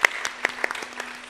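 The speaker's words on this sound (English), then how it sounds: "So let us give Rahi a big round of applause for her final segment of Arangetram," Audience applause at a Bharatanatyam arangetram recital, close and steady clapping from a crowd in a hall with a few sharper individual claps standing out, no talk over it.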